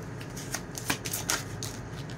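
Tarot cards are handled, shuffled and turned over up close, with a few soft sliding flicks over a quiet background.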